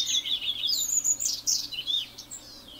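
Eurasian siskin, a male with black cap and bib, calling in a steady run of thin, high chirps and twittering notes, close and fairly clear over a quiet background.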